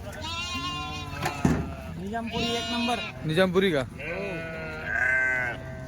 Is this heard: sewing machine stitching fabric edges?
no